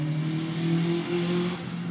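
A Renault Clio race car accelerates up a hill climb course, a strained mid-pitched engine howl holding steady then rising, loud and fairly close, with no talk over it.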